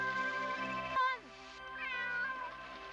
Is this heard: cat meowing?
yes